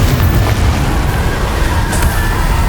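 A Confringo blasting spell goes off in Hogwarts Legacy, a loud, dense booming explosion that rumbles steadily across the whole stretch with no break and no voices.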